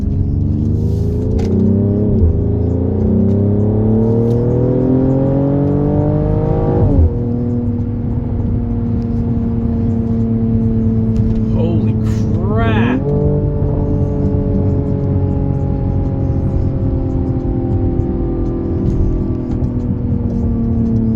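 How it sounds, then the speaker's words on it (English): A 2025 Mercedes-AMG GLE 53 SUV engine drones and climbs through the gears while driving, its loud, throaty exhaust note rising, dropping at each shift, then pulling again. "Unbelievable exhaust note."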